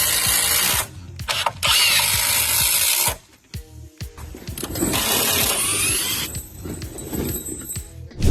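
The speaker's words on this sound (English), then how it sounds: "Grab a rotary hammer and switch it to hammer-only mode. That bolt doesn't stand a chance." A rotary hammer set to hammer-only mode, breaking a bolt. It gives loud, harsh bursts of power-tool noise that start and stop several times across the clip, with short pauses in between.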